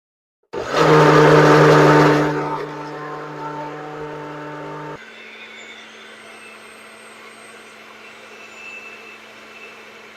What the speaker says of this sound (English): I'm going to cover my blender and then blend.